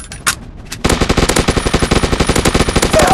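Rapid automatic gunfire in a shooting video game, a short pause after a couple of opening shots, then a loud unbroken burst of evenly spaced shots.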